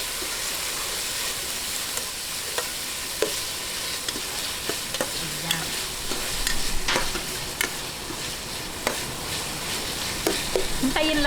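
Tomatoes sizzle and fry in a pan for pork dinuguan, a steady bright hiss punctuated by clinks and scrapes of a spoon stirring, close and continuous.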